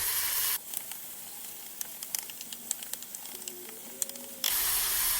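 Soft, steady sizzling of a pound of lamb frying in a crowded pan, with scattered crackles and pops, close by and fairly quiet.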